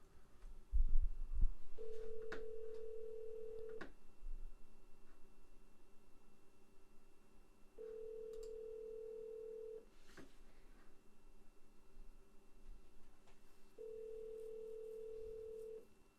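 Three long tonal ringback beeps, evenly spaced about six seconds apart, with a faint hiss and a few clicks between them; no one speaks.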